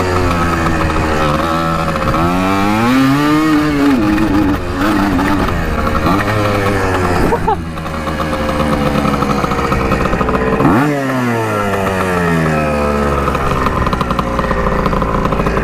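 A two-stroke dirt bike engine runs roughly with an air leak, loud and close, its pitch surging and sagging through uneven revs and a couple of sharp dips as it stumbles, with no talk over it.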